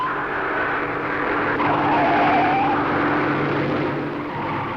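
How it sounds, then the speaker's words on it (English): Racing car at Mount Panorama, Bathurst in the 1965 Armstrong 500, loud continuous engine roar through the bends with a rising tyre squeal near the middle, close and steady throughout. "Most of the bends are left-handers and you can hear the rubber squeal."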